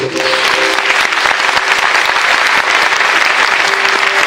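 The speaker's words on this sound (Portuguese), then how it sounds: "Aplauda a palavra de Deus." Church congregation applauding during a Catholic Mass homily, a steady loud wash of clapping that fills the whole stretch with no voices over it.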